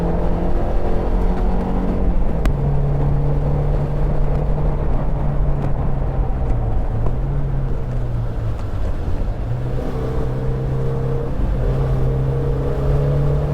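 A Mazda Miata on track at Alastaro Circuit, Finland, engine droning steadily at close range with audible pitch shifts through gear changes, wind rushing over the microphone throughout.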